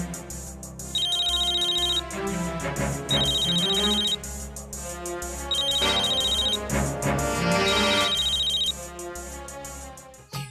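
A telephone rings in a Hindi TV drama home scene, four bright electronic ring bursts in a steady pattern over background music, fairly loud and with no talk.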